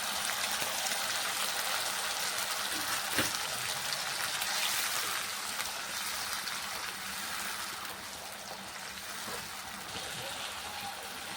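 Boiled, blended tomato paste fries in a pan for fish malaikari, giving a dense, steady close sizzle that stays even throughout and eases off slightly toward the end, with no talking.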